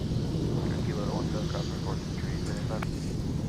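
Jet airliners climbing out after departure from Minneapolis–St. Paul airport, a steady broad roar heard from outside close to the runway, with people talking faintly underneath.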